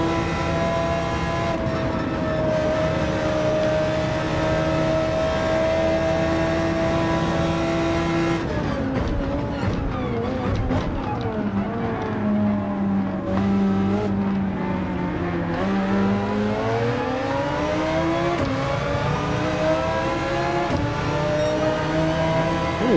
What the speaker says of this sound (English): This thing sounds great. V10 engine.